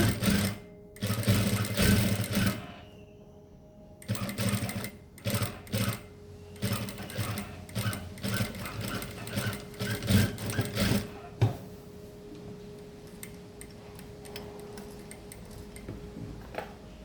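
A sewing machine stitches a seam on a garment waistband, running in several near, loud bursts of rapid rhythmic clatter separated by short pauses, with a steady ticking drone continuing toward the end.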